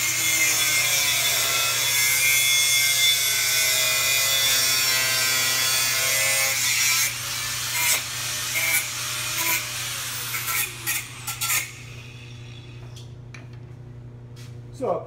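A hand saw makes the final cut through rectangular metal tubing, with steady rasping back-and-forth strokes that slow into a few separate scrapes before the piece drops and the sawing stops.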